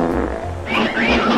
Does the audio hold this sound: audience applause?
no